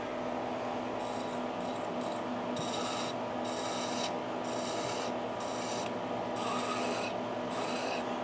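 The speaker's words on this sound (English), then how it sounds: "Now I'm gonna kind of deburr things a little bit here." A drilled metal part for an air-gun Luer fitting is deburred by hand, producing about nine short, rhythmic rasping strokes, close and fairly quiet over a steady background hum.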